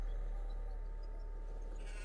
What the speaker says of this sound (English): Hey, there's a sheep.